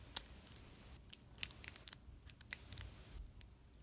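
Scissors cut wire and tape, a series of sharp close snips spaced irregularly across a few seconds in a quiet room.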